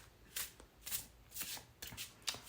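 A deck of cards is shuffled by hand in several quick riffling bursts, close and fairly quiet, with short pauses between them and no talking.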